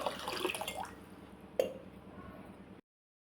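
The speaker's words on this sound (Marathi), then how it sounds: "आता आपण त्यात घालून घ्यायचं आहे पाणी" Water poured from a vessel onto washed basmati rice for dal khichdi, a close splashing trickle for under three seconds that ends abruptly.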